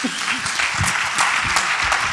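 Audience applause at a conference talk on addiction prevention and recovery in Macael, a steady dense clapping that stays loud throughout, with faint low murmurs underneath.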